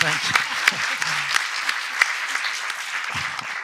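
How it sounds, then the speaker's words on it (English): An audience at the close of a talk or panel event breaks into applause, a loud, dense burst of clapping with sharp individual claps, while a voice speaks over it. "I think that deserves an applause."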